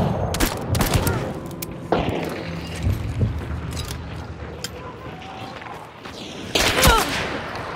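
Gunfire in Hunt: Showdown, scattered loud shots and short bursts, some close and sharp, others more distant, with brief chatter between players around them.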